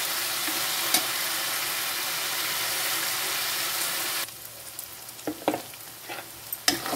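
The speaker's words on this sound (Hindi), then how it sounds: "देखिए मैं प्याज को इस तरीके से भूनूंगी।" Chopped onions frying in a pan for paneer do pyaza, a loud continuous sizzle filling the first four seconds, then dropping to a quieter hiss broken by a few sharp stirring knocks.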